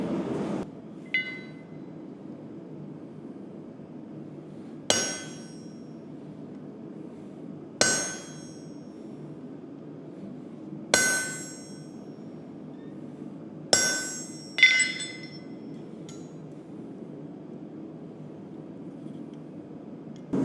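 Hammer blows strike a metal leaf on a steel swage block in a blacksmith's shop, about six sharp ringing clangs spaced a few seconds apart, with a quiet low hum between them.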